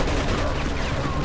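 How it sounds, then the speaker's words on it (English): A machine gun fires in a battle in Mafia 2, a brief, loud, continuous burst of gunfire filling the whole moment with no pause. "Looks like we found the machine gun!"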